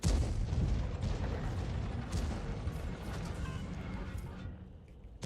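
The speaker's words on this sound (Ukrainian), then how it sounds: "Перед ним Type 71 він стріляє в Стінгера." Heavy tank cannon blasts and booming impacts from a World of Tanks battle, loud at first then easing off, with muffled rumbling throughout.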